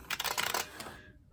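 A Zeal Clickiez buckling spring keyboard typed on at home, giving a quick flurry of crisp, close clicking keystrokes that fades into near silence after about a second.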